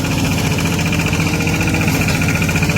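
A tractor engine idles steadily up close at a rice paddy harvest, a continuous low rumbling drone with a faint whine above it and no talking.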